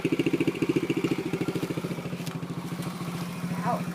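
Dirt bike engine idling in neutral with a steady, rapid low throb and a slight rev toward the end, up close and loud, while people talk nearby.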